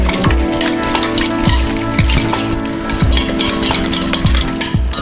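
Potato purée with chopped chives is stirred in a pot, a rhythmic series of soft scraping and tapping strokes from a utensil against the pan, steady and close, repeating about once per second with no talking.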